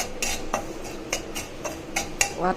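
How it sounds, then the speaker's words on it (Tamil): Semolina (rava) roasts in a pan with green chillies, curry leaves and asafoetida for upma, as a spoon scrapes and clinks against the metal in quick, regular strokes about twice a second, close and clear. "இப்போ ரவையை நல்லா வறுத்துக்கணும்."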